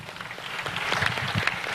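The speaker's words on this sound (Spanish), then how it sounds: "Dale un fuerte aplauso al Señor por esto" A church congregation applauds in praise during a sermon, a brief stretch of moderate, scattered clapping heard fairly close.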